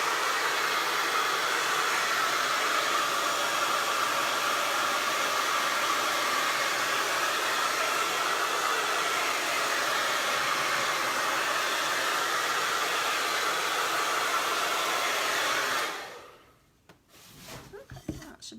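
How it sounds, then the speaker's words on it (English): A hair dryer blows a loud, steady whoosh over fresh paint on wood for about fifteen seconds, then shuts off and leaves a few faint handling noises. "I'm going to dry this a little bit to save time with the hair dryer."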